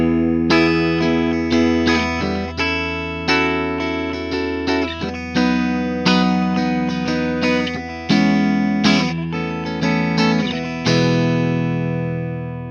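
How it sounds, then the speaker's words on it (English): An Ibanez S561 electric guitar plays continuous high-gain distorted riffs and chords for over twelve seconds, loud and up close, with two pickup coils blended out of phase for a hum-cancelling tone. "The next position blends these two, and they're out of phase, so they actually hum cancel. So if you're on a high gain setting, it works real nice."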